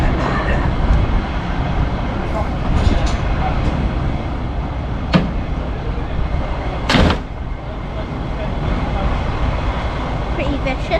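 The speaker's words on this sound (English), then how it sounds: "we'll see if we can get a shot of the train coming in" A train arrives at a Wensleydale Railway platform, rumbling steadily with sharp metallic clanks and a loud hiss partway through, while people talk faintly in the background.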